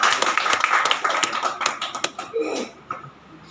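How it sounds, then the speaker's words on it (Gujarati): An audience at a poetry gathering in Chandkheda, Ahmedabad claps to welcome guests, a dense burst of applause that thins out and fades over a few seconds. "આપણે સ્પેશિયલ એમના માટે તાળીઓ પાડી વધાવીશું"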